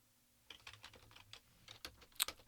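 Keys on a computer keyboard typed in a quick, uneven burst of clicks, moderately close, with no voices over it.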